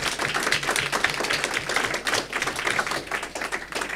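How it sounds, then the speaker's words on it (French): Audience applause for staff at a closing session of a medical conference in La Grande Motte: steady, dense clapping from a large crowd, sustained and even throughout. "je vous demande, en notre nom à tous, de les applaudir"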